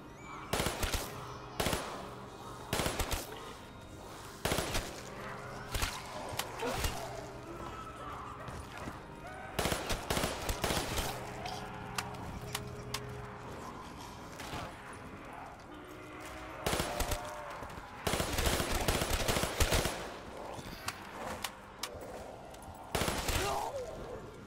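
M16 rifle bursts ring out during Black Ops 3 zombies play on Kino der Toten, in repeated rapid volleys, some long and some short, with gaps of quieter game sound between them.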